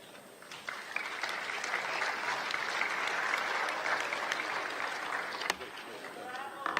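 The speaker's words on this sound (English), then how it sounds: "applause." Delegates at an Inter-Parliamentary Union assembly applaud to elect candidates. The sustained, even clapping from a large hall builds quickly, holds for several seconds and then tapers.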